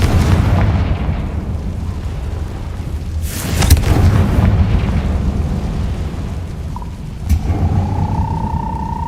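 A Confringo spell explodes in a video game: two sharp, loud blasts a few seconds apart burst over a steady rumbling background, followed by a faint rising tone.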